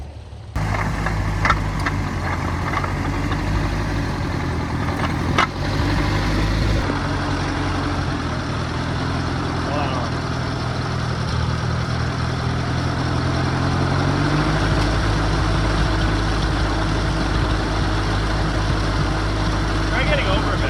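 A heavy tractor engine drones steadily throughout while raking hay, low and continuous, with faint talk now and then over the rumble.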